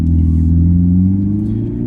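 Corvette ZR1X engine held at about half throttle, a deep, steady, loud rumbling drone with a slight rise in pitch, heard close up with no talking.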